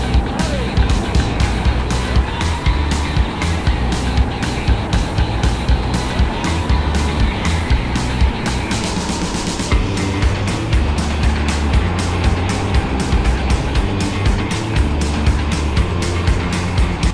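Racing kart engine during a four-hour endurance race, a steady, loud buzzing drone close by that rises and falls with the laps, with faint tyre noise and no pause.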